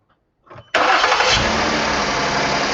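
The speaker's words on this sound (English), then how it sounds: "Okay, so I'm going to start the car." A car engine cranks briefly and then catches, jumping into a loud, steady idle that holds close to the listener; no one talks over it.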